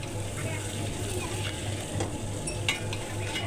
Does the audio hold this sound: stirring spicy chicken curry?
yes